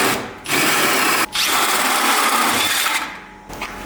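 A loud power drill whirs as a hole saw cuts into a Lada Zhiguli door panel, with a brief pause, then grinding on before winding down.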